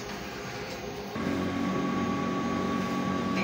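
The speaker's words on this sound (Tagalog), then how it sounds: "Printer head clean." A large format printer runs a print head clean. A mechanical hum steps up partway through into a louder, steady whir with a sustained tonal whine.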